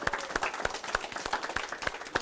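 Applause from an audience at a school event on a Saturday afternoon: steady, dense clapping close by that runs the whole time without pause.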